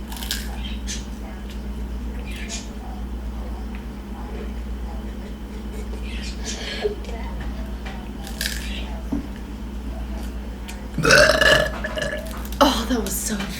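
Two brothers hold a burping contest, with loud belches ringing out near the end over a steady low hum and soft talk between them.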